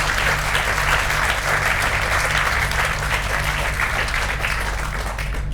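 A festival audience at a book event gives a full, sustained round of applause, many hands clapping steadily at even volume throughout, backed by a low constant hum.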